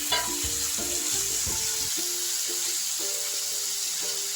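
Raw banana (aratikaya) pieces fry in hot oil in a pan with a steady, loud sizzle, broken early on by a few quick scrapes and stirs, with no voices over it.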